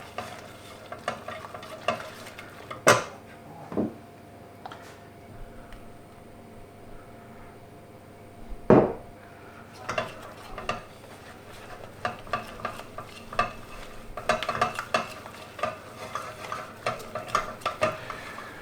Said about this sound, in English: you do want to just keep stirring the butter and flour together